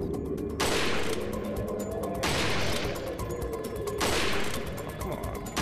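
Repeated bursts of gunfire in the virtual reality game Resident Evil 4 VR, three loud broadband blasts with sustained rattling between them over a busy game soundtrack.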